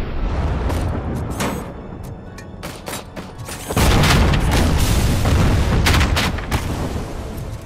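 A heavy explosion in the video game Robocop: Rogue City, with gunfire crackling before a loud, sustained boom that roars and rumbles for several seconds.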